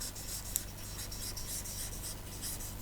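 Chalk or marker scratching out words on a board during an English lesson: a continuous, faint scraping and rubbing of strokes with one brief sharper tap, no voices.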